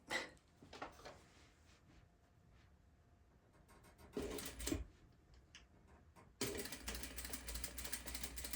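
Home sewing machine with a looping, misrouted bobbin thread, running in short bursts of rapid mechanical clatter separated by quieter pauses, then a longer continuous loud stretch near the end, close and without talking.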